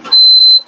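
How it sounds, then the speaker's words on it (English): A loud electronic beep from a heater, one steady high tone lasting about half a second that cuts in abruptly and stops, with faint room noise around it. "Yeah, that was a very loud beep."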